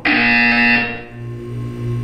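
A loud, harsh electronic buzzer in the video game Portal 2 blares for under a second, then decays into a lower humming tail, heard alone.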